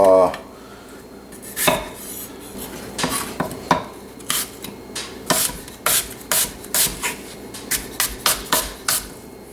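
A knife slicing apples thinly on a board for an apple tart, giving a run of crisp, regular cuts that quicken into a steady rhythm, close and clear with no talk.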